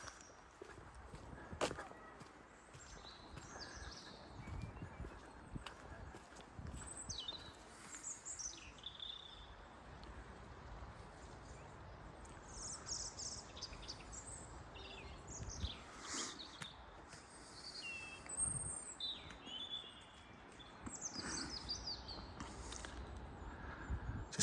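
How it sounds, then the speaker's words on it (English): Birds sing and chirp in sheltered grounds at Nostell Priory, scattered calls over quiet outdoor ambience with footsteps or hoof-like clopping underneath. "Just hear the bird song."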